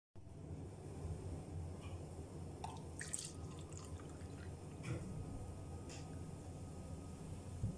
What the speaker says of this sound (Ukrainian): Він вже тепленький, розливаємо його по склянках.